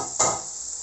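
Liver stirred in a pan with oil, spring onion and coriander: a brief scraping stir with a soft sizzle, close and fairly quiet, fading into a low steady hiss.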